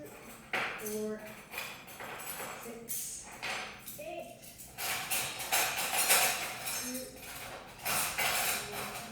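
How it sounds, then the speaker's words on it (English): Metal cutlery clinks and rattles in several short bursts as pieces are picked up and handled, with faint voices nearby. "Let me grab some cutlery."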